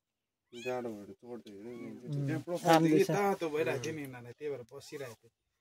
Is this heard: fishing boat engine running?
no